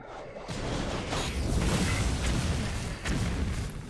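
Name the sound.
bombs exploding in Hearthstone, a video game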